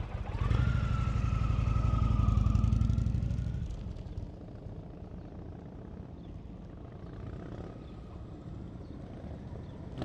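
A motorcycle idles and rolls at slow speed during a New Jersey riding-skills practice session, its engine loud and close for a few seconds before dropping to a quieter, steady low rumble.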